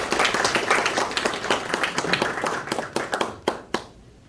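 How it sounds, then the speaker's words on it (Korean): An audience applauds at the Automobile Day anniversary ceremony in a Seoul ballroom. A dense, close round of clapping thins toward the end into a few scattered final claps before fading out. "큰 박수로 환영해 주시기 바랍니다."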